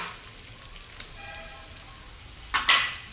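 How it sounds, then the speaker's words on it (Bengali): Pointed gourd, prawns and pumpkin fry with ginger garlic paste in a pan, a faint steady sizzle that ends in two sharp, loud metallic scrapes of a spoon. "আদা রসুনের পেস্টটা পটল, চিংড়ি, কুমড়োর সঙ্গে ভেজে নেব।"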